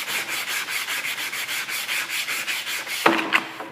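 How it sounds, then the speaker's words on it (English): Sandpaper rubs rhythmically up and down along the grain of a wooden board, quick steady scratchy strokes that stop with a brief knock and clatter near the end. "you're going to sand up and down like this."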